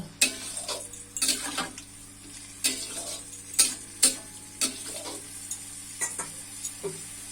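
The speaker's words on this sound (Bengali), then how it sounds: "জলের সঙ্গে কাঁঠালগুলো ভালোভাবে মিশিয়ে দিব।" A spatula scrapes around a pan in repeated strokes, roughly every half second, over a steady low simmer. Nearby and fairly loud, with no voices.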